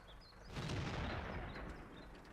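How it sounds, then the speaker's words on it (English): Artillery fire in the World of Tanks video game: a single heavy boom swells up and rolls out over about two seconds, moderately loud with a long rumbling tail. "Artillery is doing a lot of damage"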